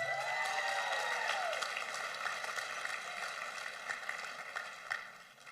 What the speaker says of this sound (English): Let's give your classmates a big round of applause.